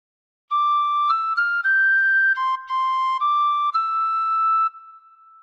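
A phrase of Hark the Herald Angels Sing played alone on a tin whistle: a clear, bright melody of about nine distinct notes with short gaps between some of them, ending on a softer sustained tone.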